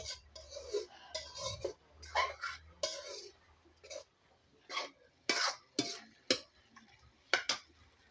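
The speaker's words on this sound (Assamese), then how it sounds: "এইখিনি ঢালাৰ পিছত ভাল কৰি আকৌ মিলাই দিব" A spoon stirs a mixture in a cooking pan after ingredients go in, giving irregular metallic scrapes and clinks that come in short bursts with quiet gaps, close and fairly soft.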